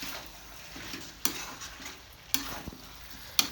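Chicken curry being stirred in a pan, with several sharp scraping knocks of a spoon against the metal at intervals over a soft, continuous low sizzle, close and fairly quiet.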